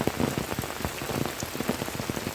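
First rain of the season falling in Yeoor forest, a steady patter of drops striking leaves and ground nearby, moderately loud and continuous, no voices.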